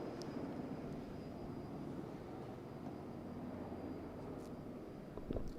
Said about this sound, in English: a helicopter just passed us by